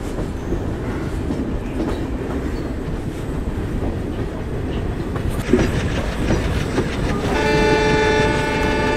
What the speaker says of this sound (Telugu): మన ట్రైన్ అయితే వెళ్ళిపోతుంది మరి.